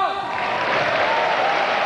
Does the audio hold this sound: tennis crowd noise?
yes